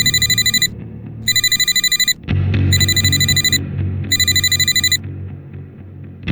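A telephone rings loudly in repeated, evenly spaced bursts of electronic trilling, with a low rumble between rings and no voices.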